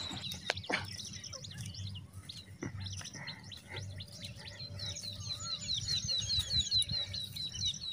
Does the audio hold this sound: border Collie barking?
no